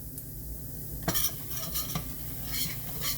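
Flour sizzles and is stirred in a frying pan while browning for smothered liver and onions, with soft scraping and stirring strokes over a constant low frying hiss, fairly quiet and close.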